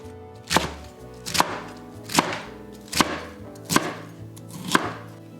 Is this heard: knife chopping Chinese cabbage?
yes